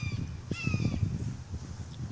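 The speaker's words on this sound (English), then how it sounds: "Listen to that hawk." A hawk calls from the trees with a few harsh, drawn-out cries, fairly faint and distant over a low outdoor rumble.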